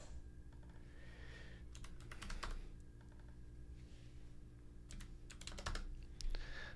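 Numbers are typed on a computer keyboard in quick, faint clusters of clicks over a low steady hum, with no talking.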